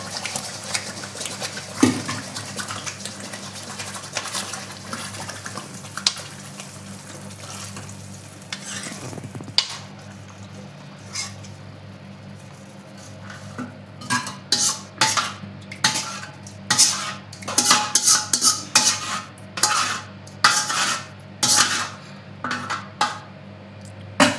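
Saag greens go into a pot of browned onions on a clay wood-fired stove, hissing and sizzling while a spoon scrapes and clanks against the metal. The stirring grows into quick rhythmic clatter, loud and close.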